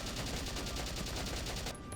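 Steady rapid automatic gunfire from the Valkyria Chronicles video game, a dense continuous burst of even repeating shots that cuts off abruptly near the end.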